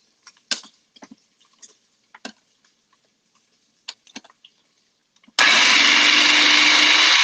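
Ingredients for red rice, including bacon, in a blender: a few scattered clicks and taps, then the motor kicks in loud and close with a steady whirring roar for the last couple of seconds.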